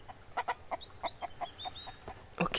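Chickens in the MIST Survival video game cluck in a quick series of short, moderately loud bursts, with a few higher rising chirps among them and a denser squawk at the end.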